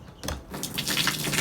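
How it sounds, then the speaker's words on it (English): Tap water pours into a fish tank in a home fish farm setup, a steady close splashing gush that starts after a brief lull and swells to a full rushing stream. "You see, water runs into it"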